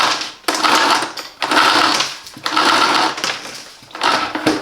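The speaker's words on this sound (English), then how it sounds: "You can pull the cable." Power cable being pulled out of a Bosch bagless vacuum cleaner, heard as four bursts of close, rattling mechanical whirring with short pauses between them.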